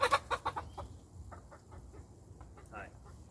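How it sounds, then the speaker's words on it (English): A small bearded pet chicken on a mini farm clucks in a quick burst of close, sharp clucks, then several softer, spaced-out clucks follow over a quiet outdoor background. "My baby sister's chicken."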